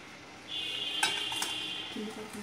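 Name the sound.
stirring okra with tomato in a pan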